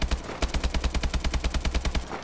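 Rapid automatic gunfire in a gun-game shooter, a fast unbroken burst of evenly spaced shots with a brief pause near the start, loud and close with no talking.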